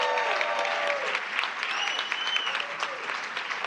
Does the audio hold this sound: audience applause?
yes